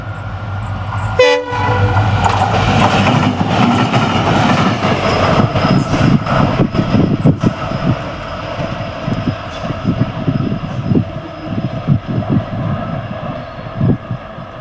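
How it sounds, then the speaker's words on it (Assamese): A train on the railway line at Dhemaji, Assam, rumbles past close by, loud and continuous, with a brief horn blast early on and rhythmic wheel clatter over the rails. "ট্ৰেইন আহি আছে মোৰ পিছে পিছে।"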